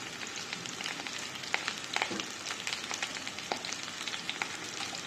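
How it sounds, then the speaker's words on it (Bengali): Potatoes and green chilies fry in a little hot oil over high heat, giving a dense, continuous sizzle with scattered sharp pops and crackles, close and steady throughout with no voices. "হাই হিটে একটু ভেজে নেব।"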